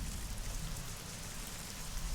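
Steady rainfall from a weather mod in the video game Fallout: New Vegas, a soft continuous hiss of drops at even intensity with no thunder or talking.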